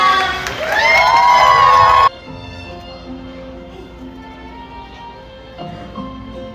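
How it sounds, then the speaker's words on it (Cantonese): Children at a primary school cheer, shout and clap loudly for a class's final performance. The excited crowd noise lasts about two seconds, then cuts abruptly to quieter music. "掌聲歡迎今日最後一隊表演綠衣班。"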